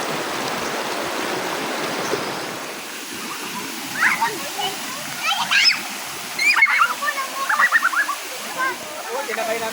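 Mountain stream water rushing steadily at Tangadan falls while children swim, with splashes and children's voices rising over the constant water noise.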